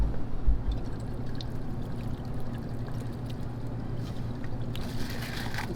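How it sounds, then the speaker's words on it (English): Vinegar is poured into a dish, a soft continuous trickle under low background hum, fairly quiet and close, with a couple of light clinks and a brief splashier swell near the end. "So now it's time to get some of our vinegar in there as well."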